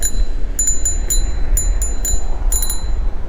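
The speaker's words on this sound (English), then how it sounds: "We got the bell over here." Several quick bright dings from the handlebar bell of a budget full-suspension electric scooter, the Rictor S9, ringing in short bursts over a low rumble of riding noise.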